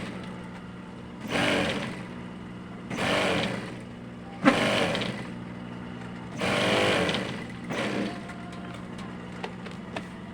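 A sewing machine stitches a jersey sando in several short bursts of fast, buzzing whir separated by quiet pauses, close and fairly loud, with no talking.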